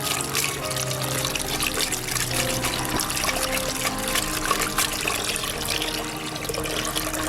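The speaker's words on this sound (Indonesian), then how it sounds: "Nah ini harus dicairkan dulu dan harus diaduk-aduk." Water poured into a mix of tofu dregs and bran and stirred in, as feed for fermentation. A steady, continuous pouring and sloshing runs close and loud throughout, with no voices.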